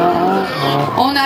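A Nissan drift car at a Latvian drift series event, engine revving loudly with rising pitch alongside tire skid and squeal, heard close and continuous over roughly a second with faint commentary underneath.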